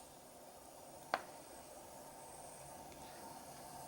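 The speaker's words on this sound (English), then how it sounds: "I think we're coming up to a boil now. Now that it's starting to make some noise" A camping stove hisses steadily as a pot of water for ramen comes up to a boil, a low continuous rush with one brief sharp tick partway through.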